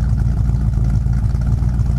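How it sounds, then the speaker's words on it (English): A 1968 Chevy pickup with dual exhaust running, giving a loud, close, steady low rumble with a slight pulsing throb. "Dual exhaust comes out really nice out the back and sounds healthy"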